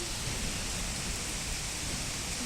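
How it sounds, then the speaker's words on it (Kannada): Steady rain falls at the Sirigere matha grounds, an even, dense close hiss with no pauses and no voices. "ಮಳೆ ಬರ್ತಾ ಉಂಟು"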